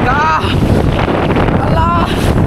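Strong wind at sea buffets a boat, roaring steadily and loud over the microphone, with shouting voices breaking through at the start and near the end.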